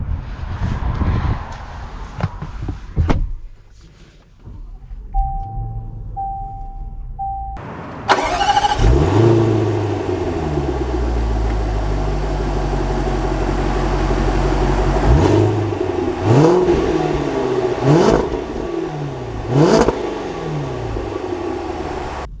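A 2021 Range Rover Fifty limited edition cranks and fires up after a quiet pause, then settles into a close, steady idle before pulling away with several rising revs; no one speaks.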